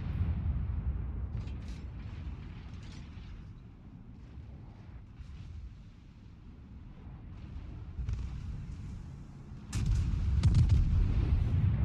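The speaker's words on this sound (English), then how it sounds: "Another salvo on Friedrich der Große." A USS Missouri battleship fires a main gun salvo at the Friedrich der Große in World of Warships, heard as rumbling booms and a heavy blast near the end, with no voices.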